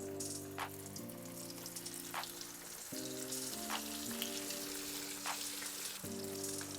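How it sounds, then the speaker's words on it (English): Potato tacos deep-fry in hot oil with a steady, dense sizzle and crackle, close and fairly quiet, alongside a faint background tone that shifts in pitch. "we start frying the tacos"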